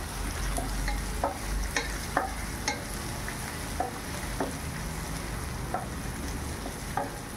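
Onion and curry leaves sizzle steadily in hot oil for sev upma, with regular scraping taps of a spatula stirring the pan every half second or so, close and moderately loud.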